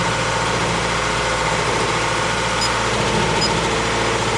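A pleasure sailboat motors toward Nassau under engine power, its inboard engine droning in a loud, steady low idle-like rumble with constant vibration and no talk.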